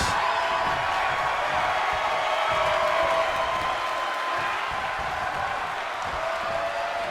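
Wrestling arena crowd in WWE 2K20 roars with steady cheering and applause, a dense, continuous wash of noise that holds at full volume throughout.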